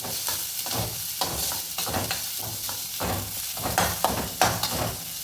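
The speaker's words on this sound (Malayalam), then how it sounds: "ബീൻസും ക്യാരറ്റും ഇട്ട് കൊടുക്കാം. നന്നായിട്ട് മിക്സ് ചെയ്ത് കൊടുക്കാം." Beans and carrots are stir-fried in a pan for a sweet corn soup, with a rhythmic scraping and stirring repeating about once a second over a constant soft sizzle of hot oil.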